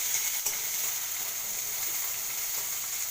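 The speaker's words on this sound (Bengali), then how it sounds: "নেড়ে নিয়ে এবার পেঁয়াজটা দিয়ে দেবো।" Onions go into a pan of frying shrimp, raising a steady, close hiss of oil that holds constant throughout with no talk.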